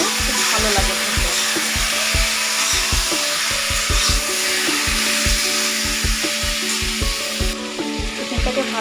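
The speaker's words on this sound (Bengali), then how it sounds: "চিকেনটাকে ভালোভাবে ভেজে নিচ্ছি" Chicken pieces frying in oil in a wok, a loud continuous sizzle over a rhythmic low mechanical thumping that pulses steadily throughout.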